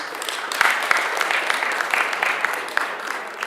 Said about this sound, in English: really a big applause for Merck